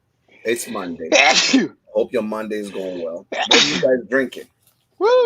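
A person sneezes amid casual talk, one sharp sneeze and a second following shortly after, close and loud between stretches of speech.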